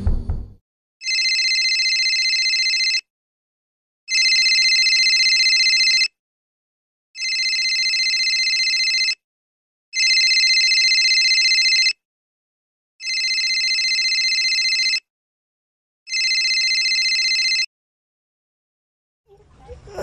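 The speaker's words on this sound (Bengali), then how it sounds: "তখন আমার কাছে হঠাৎ করে একটা ফোন আসলো।" A phone ringtone sounds in the middle of the night, six evenly spaced electronic bursts of about two seconds each with short silent gaps, loud and close with nothing else heard.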